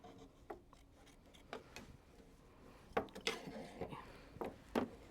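Embroidery stabilizer is trimmed for a quilt project, producing a series of quiet, irregular snipping and rustling sounds close by.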